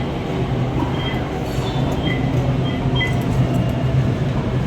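LRT light rail train in Manila rumbling along, a steady loud low roar of wheels on track with faint squeals and clicks, heard from inside or close by, no talk.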